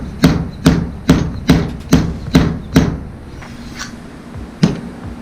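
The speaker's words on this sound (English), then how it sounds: "Just tap it lightly till you feel it stop." An old washer is tapped with a hammer to drive a seal into a motorcycle fork during a FatBoy bobber build: eight sharp, evenly spaced metallic taps close up, a short pause, then one final tap.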